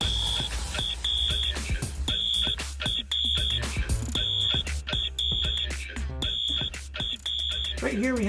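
An old Simplex fire alarm horn, a 2901-9833 horn on a 2903 strobe plate, sounds in loud, repeated blasts with short gaps between them, harsh and buzzing, close by.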